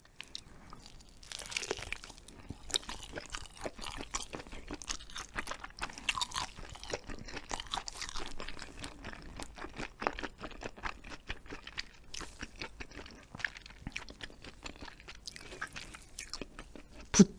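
Close, crisp crunching and chewing of jelly made from eel skin, steady bites and mastication continuing throughout with small squishy and crinkly textures, no talking.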